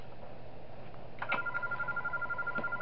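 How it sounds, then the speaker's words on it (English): A telephone in the horror game Those Nights At Wario's 3 gives a faint electronic tone that starts partway through and holds steady, heard quietly over a low hum. "I can still call the phone on Bowser since he's still in the study"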